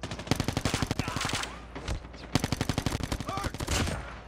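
A Cordite gun in the shooter game Call of Duty Mobile fires rapid automatic bursts, close and loud, in two long strings split by a brief pause.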